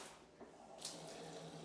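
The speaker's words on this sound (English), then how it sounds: "I'm going to actually turn on the water right here" Water gushes from a bathtub faucet into the tub, a steady close rushing hiss that swells slightly partway through.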